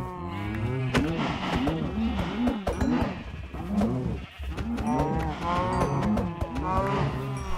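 Several cows in the Minecraft video game moo repeatedly, their overlapping calls forming a loud, continuous chorus.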